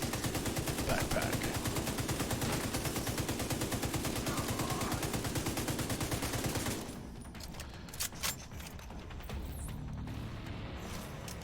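Gunfire while shooting an enemy in The Division 2: a rapid, steady automatic burst runs loud for several seconds, then cuts off, leaving quieter scattered shots and game ambience.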